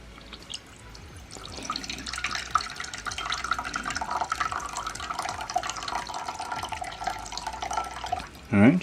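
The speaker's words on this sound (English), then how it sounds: "I'm going to use the dispenser right here to pour it out." Water trickles steadily from the spout of a ZeroWater filter pitcher dispenser into a bowl, a continuous close splashing stream that ends with a brief louder clunk.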